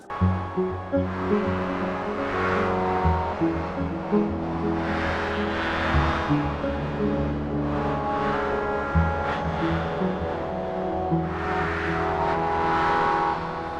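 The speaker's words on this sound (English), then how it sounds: "keeping in mind that this is a wavetable synth" A Korg Modwave wavetable synthesizer plays sustained, layered tones with a deep droning bass and bright textures that swell and fade in slow waves, steady and loud with no talking.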